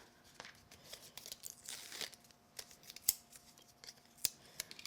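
Scissors snip through a paper craft tag in a handful of quick, close, crisp cuts, with faint paper rustling between them.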